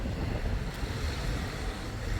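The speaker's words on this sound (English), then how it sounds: "it's quite a windy day" Steady wind gusting outdoors on a breezy day, a broadband rushing roar buffeting the microphone continuously throughout, with no voices.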